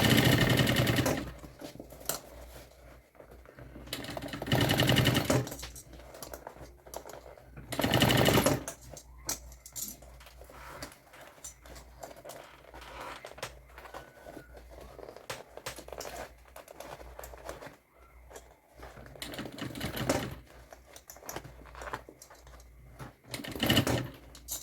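A sewing machine stitches fabric for a double clean/dirty organizer, running in several bursts of rapid mechanical whirring separated by pauses, close and loud, with no talk over it.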